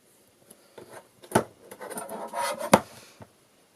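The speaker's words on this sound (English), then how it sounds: "So what I'll do, I'll cut this out with my craft knife." A sharp craft knife scores through card in short, quiet scratchy strokes, a few distinct rasping cuts close by with brief pauses between them.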